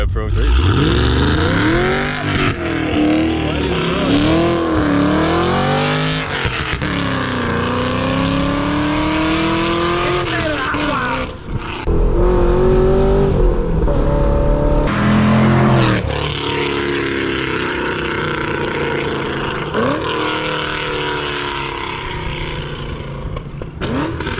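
A Camaro SS sports car with a new aftermarket exhaust revs hard and repeatedly with crackles and pops, loud and close, while people exclaim over it.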